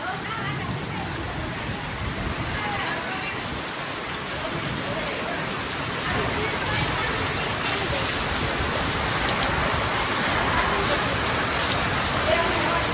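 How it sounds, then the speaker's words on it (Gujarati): Heavy rain with hail pours down steadily and loudly, a dense close hiss of drops on surfaces that swells slightly over time; no distinct thunderclap stands out. "વીજળીના કડાકા ભડાકા સાથે વરસાદ ચાલુ થઈ ગયો છે અત્યારે."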